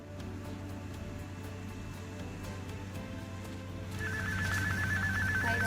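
A mobile phone ringtone cuts in late as a bright, repeating electronic warble, rising over a low steady hum that fills the earlier seconds.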